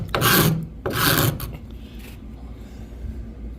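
Card scraper pulling across epoxy on the cedar strip hull of a guideboat, two loud rasping strokes close by, then quieter light scraping and rubbing.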